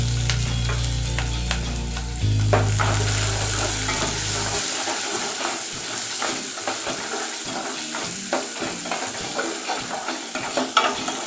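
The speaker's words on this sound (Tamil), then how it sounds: "வெங்காயம் வதக்கிட்டு கொஞ்சம் உப்பு போட்டுக்கலாம்" Onions sauté in a frying pan for a pumpkin and bitter gourd stir-fry dish, a steady sizzle with frequent stirring scrapes and clinks, close up; a low tonal hum covers the first few seconds, no voices.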